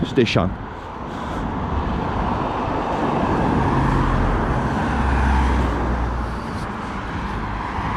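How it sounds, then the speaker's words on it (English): Steady road traffic noise with a car engine rumbling nearby, a continuous broadband wash of vehicles on a busy main road beside a police station in Swinton. "Here's a car going to turn left into the police station."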